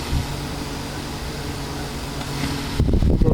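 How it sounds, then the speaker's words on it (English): A small one-speed Polar-Aire electric fan with a shaded pole C-frame motor runs close by with a steady whooshing hum and faint tonal drone; a brief knock and rustle near the end. "Little shaded pole C-frame motor."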